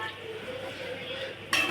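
Thalakai curry simmers in a pan, a soft steady bubbling and sizzle running evenly throughout, close by, with a brief clink of a utensil against the pan near the end.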